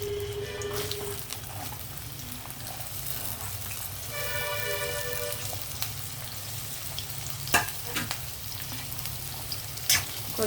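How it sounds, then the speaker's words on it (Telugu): Onions frying in hot oil in a pan for chicken and drumstick curry, giving a steady close sizzle with a few sharp spatula knocks near the end and no talk. "ఆయిల్ హీట్ అయిన తర్వాత మనం ముందుగా ఆనియన్ వేపుదామండి"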